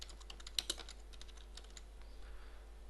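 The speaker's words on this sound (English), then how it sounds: "type in some approve message" Keys tapped on a computer keyboard while typing a short approval message, a quiet, sparse run of light clicks with two sharper strokes near the start, over a faint steady hum and no talk.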